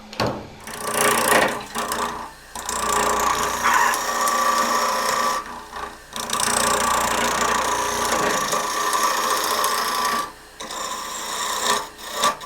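A wood lathe turning a bowl at 880 RPM spins with a rough, rasping scrape as a tool cuts, broken by a few short pauses, loud and close with no voices.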